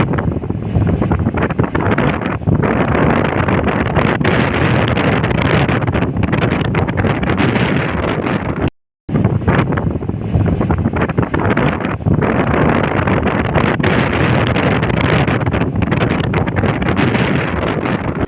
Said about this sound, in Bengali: কক্সবাজার সমুদ্র সৈকতে ইতিমধ্যেই রেমাল ঝড়ের তাণ্ডব শুরু হয়ে গেছে। আপনারা শুনতে পাচ্ছেন সমুদ্রের গর্জন,